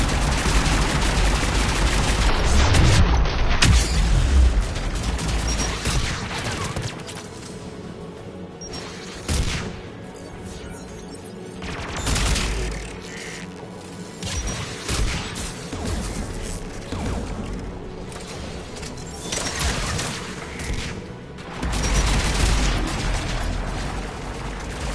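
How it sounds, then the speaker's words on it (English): Anti-aircraft guns firing in the video game Mass Effect 3, heavy bursts of rapid gunfire and booming blasts that come in repeated loud volleys with quieter gaps between them. "AA guns ahead of me."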